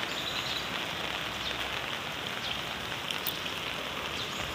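Heavy rain pours steadily onto a flooded street in Bulacan, a dense, unbroken roar of water that stays loud and even throughout.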